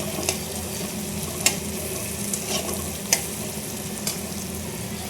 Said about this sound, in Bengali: টমেটো হচ্ছে আদা রসুন পেঁয়াজ গোটা দিয়ে সব ভালো করে কষিয়ে নিচ্ছি